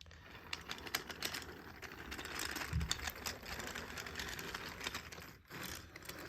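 A Gordon model train runs along old clickety-clack track, producing a fast, continuous patter of small mechanical clicks and rattles close by, with a soft motor whir underneath and no speech.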